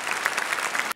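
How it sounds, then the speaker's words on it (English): A brief burst of dense clapping from a group, steady and fairly close, cutting off abruptly after about a second. "Yay, round of applause."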